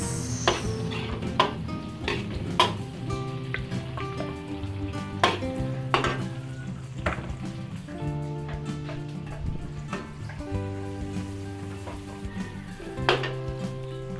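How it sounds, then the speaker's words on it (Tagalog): Pork shoulder (kasim) sautéing in a pan makes a continuous sizzle, broken by sharp scrapes and clinks of a utensil against the pan at irregular intervals. No one speaks. "unahin po natin gisa yung ating kasim"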